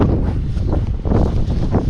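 Strong gusting wind on a house construction site buffets the microphone in a continuous roaring rumble, rising and falling in loudness with no voices.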